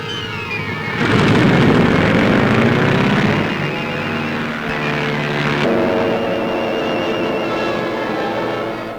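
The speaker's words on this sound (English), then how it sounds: "carrier planes make ready and take off." Carrier plane engines roar and drone steadily over several seconds, with a louder surge as a plane takes off from the carrier, fairly close and without voices, in an archival newsreel.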